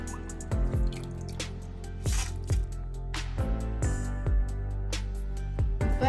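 Water dripping and draining off soaked white rice for idiyappam flour, a steady series of distinct drips and small splashes, close and clear, with no talking.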